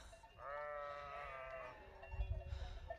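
Goats and sheep bleating in an Alpine mountain setting, a long wavering bleat up close followed by rougher, lower cries and rustling, no talk over it.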